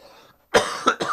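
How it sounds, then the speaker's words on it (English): A person recovering from a cold coughs three times in quick succession, close and loud, after a faint murmur and a brief pause. "I'm coming off a cold. I'm trying not to cough in the microphone."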